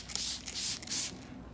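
Pre-soak cleaner is sprayed from a trigger bottle onto a motorcycle during washing, with several short hissing bursts close by in quick succession.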